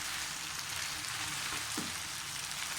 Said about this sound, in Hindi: यहाँ मैं बैंगन भून रही हूँ, 3-4 मिनट इनको भूनना है।